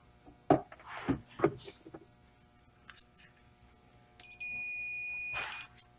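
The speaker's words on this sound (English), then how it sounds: "Beeps when there's continuity." Several clicks and clunks of handling are followed by a steady, high-pitched electronic beep from a continuity tester that holds for over a second, then scraping noises, while checking ignition wiring.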